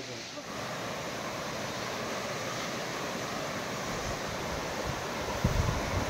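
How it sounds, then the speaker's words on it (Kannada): Water rushing steadily at Meenmutty Falls in Wayanad, Kerala, a dense, continuous roar of broadband noise filling the scene, with a brief low bump near the end. "ಮಾತಾಡೋದೇನು ಕೇಳ್ಸಲ್ಲ, ಬರೀ ನೀರು ತಗೊಂಡಿರುತ್ತೆ"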